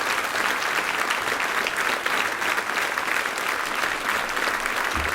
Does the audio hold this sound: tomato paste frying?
no